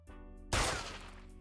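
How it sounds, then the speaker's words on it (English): A single warning gunshot rings out as one loud, sharp blast with a decaying tail. It follows a low tonal hum. "That was a warning shot."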